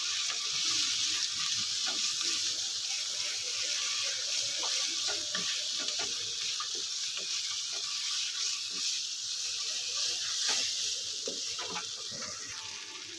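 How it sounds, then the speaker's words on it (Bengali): Chicken with turmeric and salt being sautéed in a pan, a steady bright sizzle with faint scrapes of stirring throughout, close and even in level. "এবার সবগুলো আমি ভালো করে কষাবো।"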